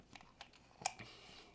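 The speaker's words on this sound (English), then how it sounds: "You can really hear the threads. They're very, very smooth, not crunchy whatsoever." The threaded top section of a Continuous Current Manhattan V2 vape atomizer is screwed together by hand, giving a few small, quiet metallic clicks and ticks up close, with one sharper tick near the end.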